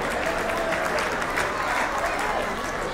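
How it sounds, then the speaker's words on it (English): An audience at the MJK Celebrations 2024 community event breaks into dense, continuous applause for a member, a steady even roar of many hands with no voices over it. "let's give you a round of applause to Manish Brasha"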